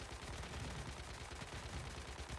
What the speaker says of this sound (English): We got a lot of explosions.